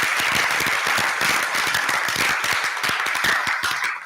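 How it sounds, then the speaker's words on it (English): An audience claps for a named person at a church Sunday service event, a dense, continuous round of applause from many hands that holds steady throughout and fades slightly at the end. "Let's give Violet a round of applause."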